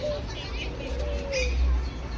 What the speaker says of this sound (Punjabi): ਘੁੱਗੀਆਂ ਹਾਂ ਘੁੱਗੀਆਂ